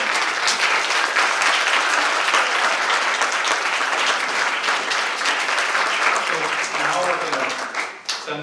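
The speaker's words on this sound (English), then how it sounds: "let's just give one more round of applause for all the great people" An audience at a university business plan competition final gives a long, loud round of applause, dense steady clapping throughout that thins out in the last second.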